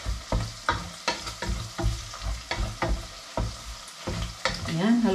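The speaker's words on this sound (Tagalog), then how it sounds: "Gigisa na ako ng ating bawang." Garlic sautéing in a pan, sizzling and frying with repeated scraping stirs in an irregular rhythm, close and moderately loud, without speech.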